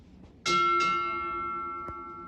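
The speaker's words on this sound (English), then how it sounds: "Bosun, strike two bells." Two sharp strokes on a ship's bell sound during a US Navy retirement ceremony, closely paired, with a long sustained ring that decays gradually; a faint knock comes near the end.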